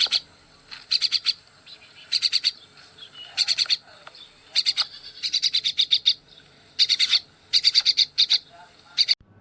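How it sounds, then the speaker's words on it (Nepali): A bird calls in short rapid trains of high chirping notes, repeated in bursts with brief gaps between them, clear and fairly close over a quiet background. "उल्लु अथवा लाटोकोसेरो।"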